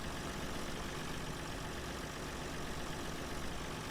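Steady low engine drone from a combine harvester in the farming game Farming Simulator 17, a continuous idling rumble at even loudness with no talk.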